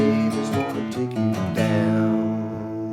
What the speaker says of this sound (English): So it sounds like this all together.